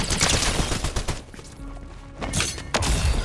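Auto turret gunfire in Fortnite, with dense bursts of rapid shots and impacts that ease briefly in the middle before loud volleys return, with no talking.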